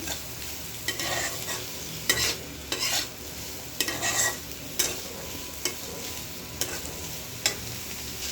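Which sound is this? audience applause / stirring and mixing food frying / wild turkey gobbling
stirring and mixing food frying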